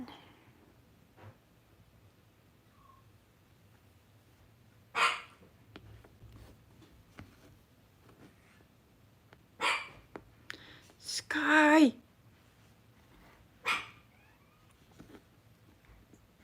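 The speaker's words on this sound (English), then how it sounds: "She's barking and it's midnight." A dog barks a few times at midnight in separate short bursts, moderately close, with a quiet background and a brief call from a person in between.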